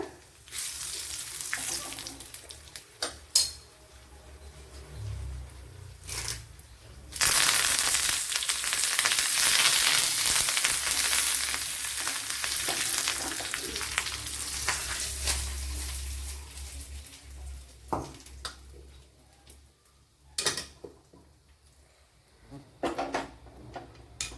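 Mustard seeds, dried chillies and curry leaves frying in hot coconut oil for a Kerala chicken curry, giving a loud steady sizzle and crackle with occasional clinks of a spoon against the pan.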